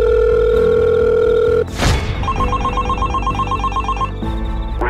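Phone ringing in the Roblox Brookhaven video game, a loud steady tone cut off by a whoosh, then a repeating electronic ring pattern over game music, with no talking.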